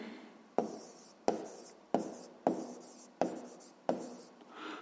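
A pen writes on paper while working a maths exercise: six short, scratchy strokes in an even rhythm, close and fairly quiet.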